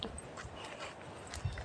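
A dog named Rambho whimpers softly amid a noisy outdoor background, the faint whine brief and partly buried in broadband rustle and hiss.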